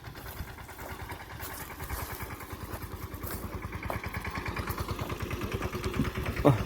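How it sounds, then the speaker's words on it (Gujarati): A mini tractor engine idles on a village farm in Gujarat, its steady low chugging pulse building slightly louder over several seconds, heard alone with no voices. "ટ્રેક્ટર ચાલુ કરી લીધું"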